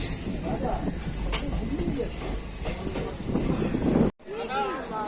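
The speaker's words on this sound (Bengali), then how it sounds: "মাত্র তিন মিনিট লেটে ট্রেনটা ঢুকে গেল মালদা টাউন স্টেশন" The Haldibari Express rumbles and hisses as it rolls into Malda Town station, with steady clatter and a busy background where people talk, then a brief cut.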